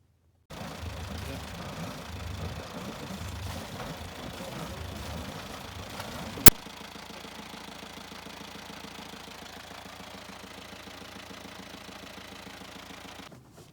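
A Perkins 4108 marine diesel engine on a boat, running steadily after work on its exhaust elbow and seawater circuit, a close continuous low rumble with a sharp click partway through, then a smoother idle.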